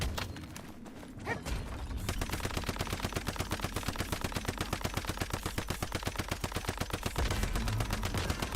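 Automatic gunfire in the video game Once Human, a rapid, evenly spaced burst of shots running for several seconds after a short quiet lead-in, close and without talk.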